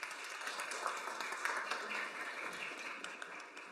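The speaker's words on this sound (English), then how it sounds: "I want to offer an early round of applause" Steady applause from a conference audience at a colloquium on urban heat resilience, a broad even wash of many hands clapping that holds at a moderate level throughout without a break.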